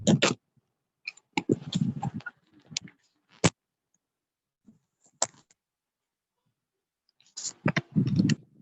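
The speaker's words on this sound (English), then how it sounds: "I'm typing in the chat box." Someone types on a computer keyboard during an online French class, producing irregular bursts of clicking keys broken by long silent pauses.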